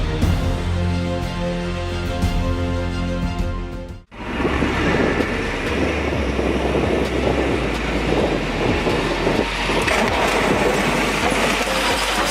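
A train rumbles past close by at a railway crossing, a steady droning hum that breaks briefly before a louder rush of rattling wheels and wind continues.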